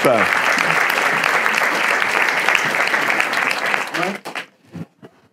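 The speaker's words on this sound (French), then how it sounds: "on va accueillir la dernière équipe sous un tonnerre d'applaudissements, s'il vous plaît" Loud, dense applause from an audience welcoming the Vitropep team at a French-language presentation event, sustained for about four seconds before tapering into a few scattered claps.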